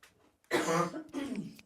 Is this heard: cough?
yes